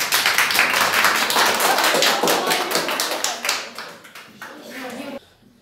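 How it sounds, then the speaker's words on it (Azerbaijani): A small group, likely children at a quiz, claps for the winner, a dense burst of hand claps that thins out over several seconds before stopping abruptly, with voices mixed in. "Nihat'a bir alqış."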